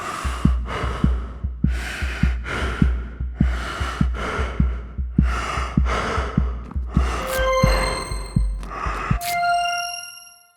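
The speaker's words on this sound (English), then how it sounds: "As the life of the player goes lower, the heartbeat goes faster because of a pitch shifter controlled by the player health RTPC, and the breathing becomes clearer" Game player heartbeat that speeds up and rises in pitch as health drops, under a muffling filter that gradually lifts so the breathing grows clearer: steady loud thumps with heavy breaths, closing on bright ringing chimes.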